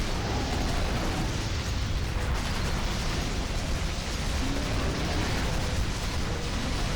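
Dense, continuous barrage of bursting, booming blasts from Yuli's gun in the video game Monster Hunter Portable, loud and unbroken across the whole stretch with no voices over it.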